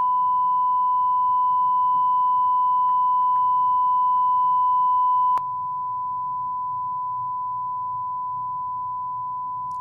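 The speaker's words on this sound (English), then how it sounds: "I'm just feeding a 1000 hertz tone to the system" A steady, pure 1000 hertz test tone from a CTP Systems DbBox runs unbroken, with a brief click partway through and a slight drop in level afterward.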